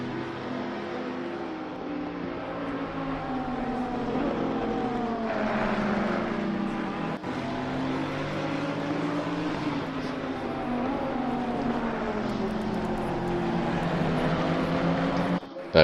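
Two Ferrari race cars dueling in a sim racing game at Kyalami, their engines droning steadily with pitch sweeps as they shift and pass. The sound stays continuous and fairly loud, with a commentator's voice at times.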